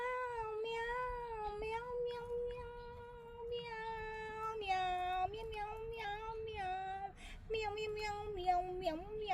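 A pregnant stray cat meows repeatedly and insistently up close, long drawn-out cries with shifting pitch following one another almost without pause, a faint voice murmuring now and then underneath.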